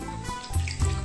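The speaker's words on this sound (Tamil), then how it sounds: "இந்த தண்ணியை ஊற்றி" A short trickle of water pouring and splashing into a bowl of rice flour for murukku dough, close and brief, lasting about a second.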